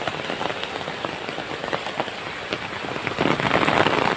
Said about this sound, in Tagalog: Tubig ulan lang yan, galing sa bundok.